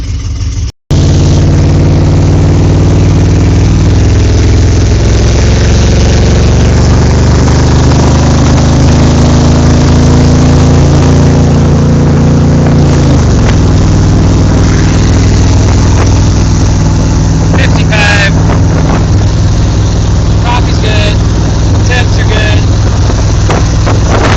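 A truck's V8 engine cranks, catches and settles into a loud, close, rumbling idle that runs steadily throughout, with a slight shift in pitch partway through.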